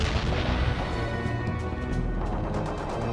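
Artillery fire in the strategy video game World in Conflict, a dense, continuous rumble of booming blasts and crashing impacts without a pause.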